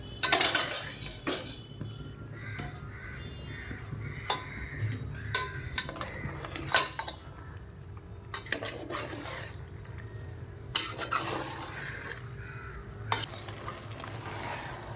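Pasta is stirred in a cooking pan, with scattered scrapes and clinks of a utensil against the metal over a soft simmering sizzle, close and moderately quiet.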